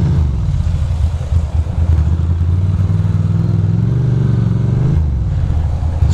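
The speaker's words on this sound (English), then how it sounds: "So many motorcycles today" Motorcycles pass on a road with a loud, close, rumbling engine drone that swells and rises in pitch midway before easing off.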